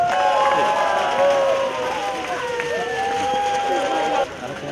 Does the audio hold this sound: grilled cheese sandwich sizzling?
no